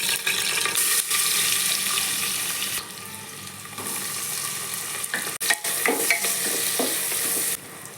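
Butter sizzling in a pressure cooker with boiled vegetables for pav bhaji, a loud continuous hiss with scraping stirs and a sharp clank partway through.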